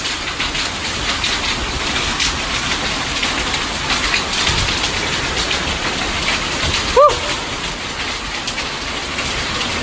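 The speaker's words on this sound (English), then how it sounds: "Hail!" Hail falls on cars in a dense, continuous pattering roar, loud and close, with one brief sharper tone near the end.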